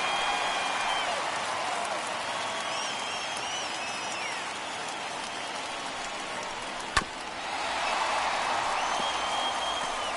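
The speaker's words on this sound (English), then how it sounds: "Now the crowd gets happy." Steady crowd cheering and applause from a video game stadium at the MLB All-Star Game in MLB The Show 21 fills the whole stretch, with a sharp click partway through before the roar swells again.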